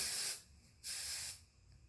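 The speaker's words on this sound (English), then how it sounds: "I'm going to use the Amika Perk Up Dry Shampoo. Shake it, spray it around your hairline." Amika Perk Up dry shampoo sprays around a hairline in two steady hissing bursts, each under half a second, close and alone with no talk.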